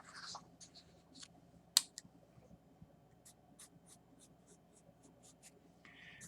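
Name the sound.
drawing a line with a pen on a graph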